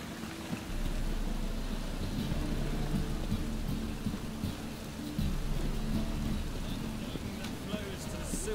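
Steady rain hisses across the scene in The Witcher 3 video game, a continuous soft wash with low rumbles underneath, and a voice speaks briefly over it.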